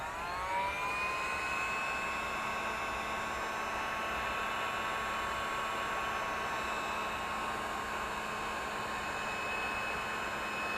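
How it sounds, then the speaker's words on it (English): A heat gun blowing hot air for craft embossing, a steady, close, whooshing roar with a constant whine that runs unbroken throughout. "Heat gun."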